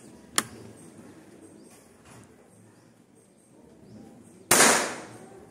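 Two sharp, short cracks from an FX Bumbara PCP air rifle, a few seconds apart, the second louder and fuller, over faint background hum with no talking.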